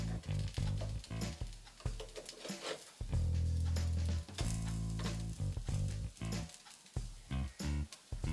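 A plant-based burger patty sizzles on a grill as it is flipped, with loud crackling bursts, brief scraping clatters and short pauses in an uneven rhythm.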